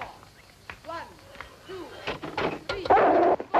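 A dog barks and whimpers indoors in a 1961 film scene, a few short yips and whines followed by a louder, rougher burst of barking, with people speaking nearby.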